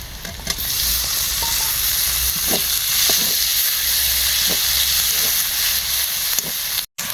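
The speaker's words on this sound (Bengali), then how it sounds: "টমেটো দিয়ে কিছুক্ষণ নাড়াচাড়া করে নিয়েছি" Chopped tomato and ginger paste are stirred and fried in a pan for a ghugni cooked with mutton fat, giving a steady, close sizzle with soft scraping stirs throughout and no talking.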